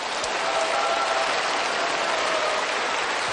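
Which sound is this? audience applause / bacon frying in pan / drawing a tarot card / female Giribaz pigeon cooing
audience applause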